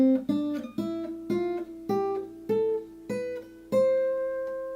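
A guitar plays a natural-note scale beginning on C, eight single notes picked one after another at an even pace, each ringing clearly with the last held longer, close and alone.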